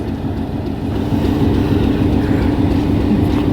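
Ooty diesel toy train rolling along, heard close from the front, with a steady low rumble and rhythmic clickety-clack of wheels on rails that grows louder after the first second.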